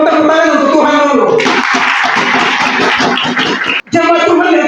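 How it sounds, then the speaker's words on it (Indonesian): A church congregation bursts into a couple of seconds of loud, dense applause, preceded and followed by a preacher talking over an amplified sound system. "Tepuk tangan untuk Tuhan dulu."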